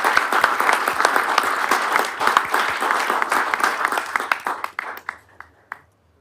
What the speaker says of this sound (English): I wish everybody give a round of applause for Paranjay.